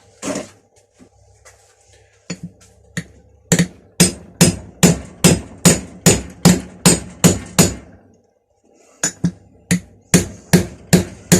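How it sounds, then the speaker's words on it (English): A hammer bangs on a dented hollow metal piece set on a homemade anvil made from railroad track. A few scattered taps lead into a steady run of about a dozen loud, ringing blows, then a short pause and more strikes. "Bashing it around like this ain't really doing no good. It's testing the Anvil"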